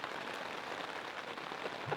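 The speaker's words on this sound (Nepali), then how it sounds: "कसको प्लान हो यो असिना परिदिरहेको" Hail falls steadily at a campsite, a dense continuous patter of small hits on surfaces, even and unbroken throughout with no talk.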